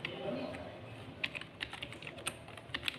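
Typing on a computer keyboard while searching for how to create a Gmail account, with a run of quick, uneven key clicks close up and a few louder taps, and no talk.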